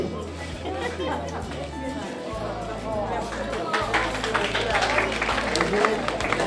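An audience at a TeleTaxi May lottery draw breaks into steady applause, a dense wash of clapping that swells over several seconds while a host's voice carries over it.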